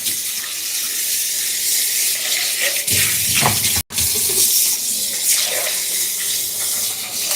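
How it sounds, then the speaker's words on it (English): Kitchen tap water runs steadily into a small bowl being rinsed out, a loud continuous splashing hiss with shifting gushes as the bowl moves under the stream, cut off by a brief pause partway. "let me just wash out this little bowl right here"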